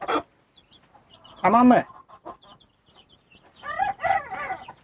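A broody hen in a coop gives a few sharp, close clucks and squawks in short bursts separated by quiet, while a person speaks briefly.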